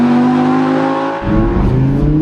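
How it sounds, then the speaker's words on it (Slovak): Audi R8 V10 engine and exhaust, a loud steady droning hum that drops briefly then returns with deeper, rougher rumbling, close and alone. "Zvuk motora, zvuk výfukov do tých 4000 otáčok je úplne kľudný."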